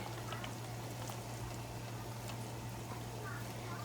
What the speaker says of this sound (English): You can add a little bit of white vinegar if you like.